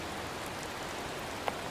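Heavy rain pours down on a forest hiking trail, a dense, steady hiss filling the air with a single brief sharp tap near the end.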